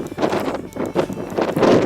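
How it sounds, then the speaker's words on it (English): Loud, gusty wind on a mountain ridge buffeting the microphone in rough, surging waves, close and constant with no voices. "It's windy up here too."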